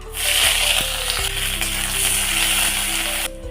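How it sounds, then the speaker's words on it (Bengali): Sliced onion, garlic and dried chili sizzle in hot mustard oil, a loud, close, continuous frying hiss that holds steady before cutting off abruptly near the end. "পেঁয়াজ রসুন আর লঙ্কাটা ভাজা হয়ে গেছে"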